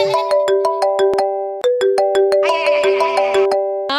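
A second mobile phone rings with a bright electronic ringtone, a rapid repeating melody of clear tones that plays loud and close with no talking.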